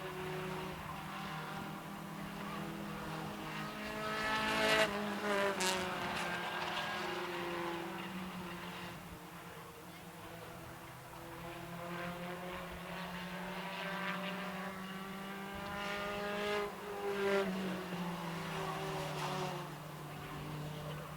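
Race cars lap a Maine oval racetrack during a Fall Fury short-track event, engines droning steadily with passing surges and revs rising and falling throughout, fairly close and continuous.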